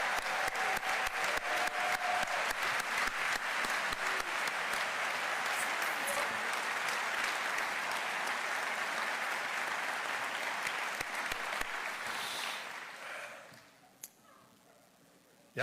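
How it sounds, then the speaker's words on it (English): Sustained audience applause for police and firefighters during the Atlanta mayor's 2025 State of the City address, a steady roar of many hands from a large hall that dies away near the end. "So please give another round of applause to show our appreciation to Chief Shearbaum, Chief Smith"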